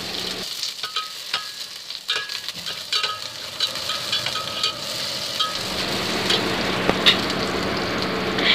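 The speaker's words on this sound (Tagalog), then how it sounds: "magisa na tayo ng sibuyas at saka luya" Onion and ginger sautéing in a pan make a steady sizzle that swells into a dense frying hiss. Light clinks and stirring scrapes sound near the start.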